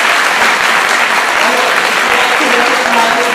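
Audience clapping for a chorus at an evening concert in Boston, a dense, loud, continuous round of applause from a full crowd that holds steady throughout.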